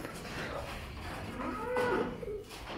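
At a cattle market where cows are up for sale, one cow gives a single drawn-out moo over a steady murmur of background noise.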